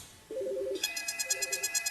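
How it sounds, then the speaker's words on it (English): A desk phone on a PBX office phone system starts ringing, a brief two-tone trill followed by a brighter, rapidly pulsing electronic ring, clear and close with no voices. "my phone is now started ringing"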